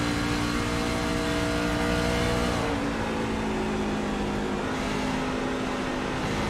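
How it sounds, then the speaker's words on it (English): A race truck engine in the iRacing game drones loudly, then is shut off partway through, the steady tone dropping into a lower, rougher rumble with no talking. "I'm hearing him shut the truck off."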